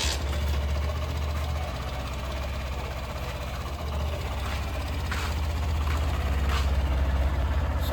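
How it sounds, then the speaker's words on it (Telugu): A motorbike engine running at a steady idle, a continuous low rumble close by with a faint knocking texture, unchanging for the whole stretch. "సో ఇప్పుడు బండి స్టార్ట్ అయితే చేస్తాం."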